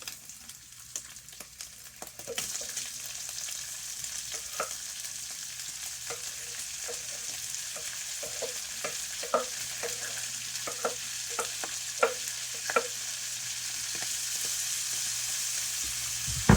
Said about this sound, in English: now what I want to add is the onions and peppers to it. We're going to cook that for a few minutes.